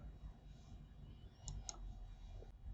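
A couple of faint, crisp computer mouse clicks close by over a quiet room hum, with no talking.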